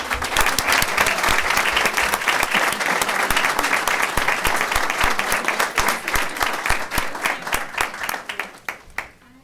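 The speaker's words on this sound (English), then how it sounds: "So please, a round of applause." At a school board meeting, an audience applauds a teacher being honored, a dense burst of many hands clapping that holds steady, then thins into scattered individual claps and fades out near the end.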